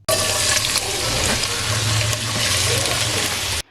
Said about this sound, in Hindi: अब इसमें हम प्याज शामिल करेंगे